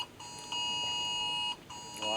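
A phone alert beeps through do-not-disturb mode, a steady high electronic tone sounding in repeated long pulses with brief gaps, loud and close, with faint background noise between pulses.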